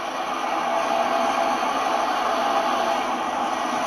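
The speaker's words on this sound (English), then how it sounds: "I was wrong, that's a Metro bus." A steady, low Metro bus engine rumble, played as a recorded sound effect, hums continuously with broadband hiss, even and unbroken.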